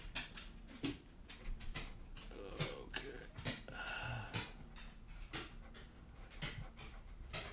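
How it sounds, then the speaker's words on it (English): A dog pants indoors in quick, rhythmic breaths, faint and close, with soft scuffs between the breaths. "The dog's going back upstairs."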